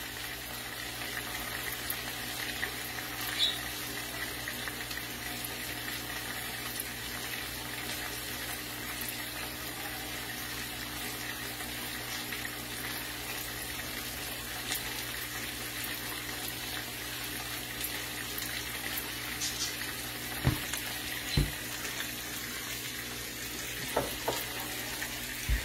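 Seasoned chuck steak fries in a pan with a steady, dense sizzle that holds for the whole stretch, with a few faint clinks near the end.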